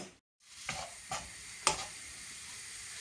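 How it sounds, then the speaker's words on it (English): Turkey sizzles steadily in a hot wok, with a few scraping stirs breaking through the constant hiss, fairly quiet and close. "So you can hear the turkey start to sizzle away."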